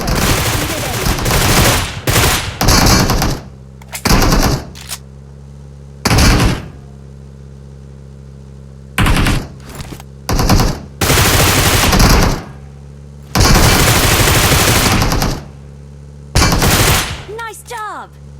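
PUBG gunfire from a vehicle during a match: loud bursts of rapid shots in separated volleys, with brief pauses between, mixed with game sounds.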